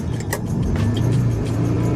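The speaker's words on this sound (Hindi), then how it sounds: "तो ये मैंने अब फर्स्ट गियर लगा दिया है और गाड़ी को स्टार्ट कर लेते हैं।" A car engine runs steadily close by as it is started and pulled away in first gear, a continuous low drone with a brief rise in revs, heard alone without talk.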